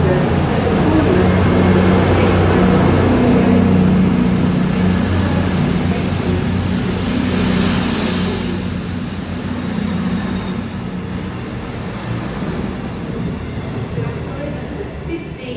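A Cross Country Voyager diesel train pulls out of Coventry station bound for Birmingham, its engine roaring loudly and steadily before easing off a little and rumbling on under the broad noise of the platform.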